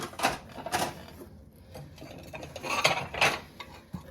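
Ceramic Christmas salad plates and dishes clink and knock together as they are handled and stacked while clearing out a hutch, with a few sharp close clatters spread across the stretch.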